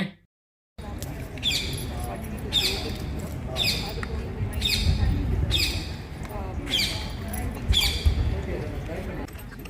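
Parrots squawk in a forest setting, with repeated loud, harsh bursts at roughly regular intervals over steady background chatter and rustle.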